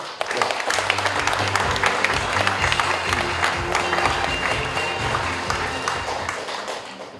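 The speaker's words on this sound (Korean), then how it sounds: "자, 박수로." Steady, dense audience applause at a book launch event, many hands clapping together without a break, at a moderate level throughout.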